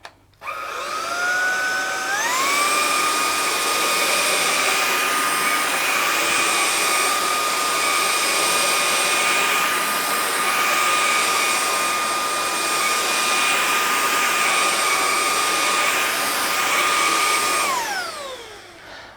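A Lubluelu TPH06 cordless vacuum on maximum suction works over wiry carpet, spinning up into a loud, steady whine that holds for about fifteen seconds before winding down, with no talking.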